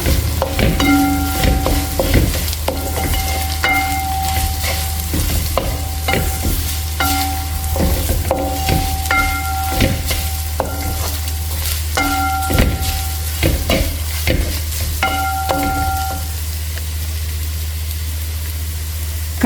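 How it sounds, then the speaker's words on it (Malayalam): A spoon scrapes and stirs grated coconut into browning cassava and urad dal in a hot pan, in repeated rhythmic strokes over a soft sizzle and a constant low background hum. "നമുക്കിതിലേക്ക് തേങ്ങ ആഡ് ചെയ്ത് കൊടുക്കാം ഇത് നല്ലതുപോലെ ഇളക്കി കൊടുക്കാം"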